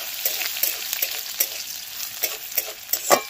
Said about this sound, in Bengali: এই দেখো দিয়ে দিলাম রসুনটাকে খুব ভালো করে ভেজে নেব।